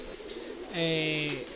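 Pigeons coo on a pigeon farm, a couple of short calls followed by a louder drawn-out coo close by, with faint chirps and a little background voice.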